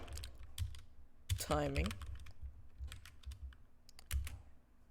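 Keys clack on a computer keyboard while code is typed for a Pokémon game in Roblox Studio, with irregular light taps and short bursts. A voice briefly speaks a word partway through.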